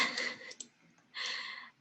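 Soft computer clicks from a Shift key and mouse, two short bursts of quiet clicking separated by a brief pause, close and alone.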